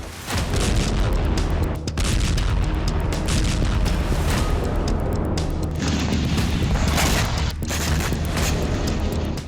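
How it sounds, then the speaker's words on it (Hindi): Dense, heavy booms and blasts from Russian ballistic missile strikes on a tube plant in Dnipro, Ukraine, roll one after another in a continuous loud barrage, with rumbling debris noise and no pauses between impacts. "रूस की मिसाइल स्ट्राइक से नीप्रो में एक दो नहीं बल्कि कई जबरदस्त विस्फोट हुए।"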